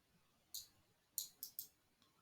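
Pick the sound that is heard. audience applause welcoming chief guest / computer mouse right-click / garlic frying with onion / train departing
computer mouse right-click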